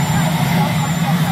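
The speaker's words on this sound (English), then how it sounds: "you have a helicopter that's raging back there" A helicopter running nearby behind an outdoor presidential press gathering at the White House, a loud steady engine and rotor drone with a low throbbing hum over the brief moment, no clear speech.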